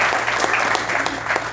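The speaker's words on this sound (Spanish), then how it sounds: "Den un fuerte aplauso a sus pastores." An audience at a church service breaks into loud, steady applause for the pastors, a dense burst of clapping filling the brief moment.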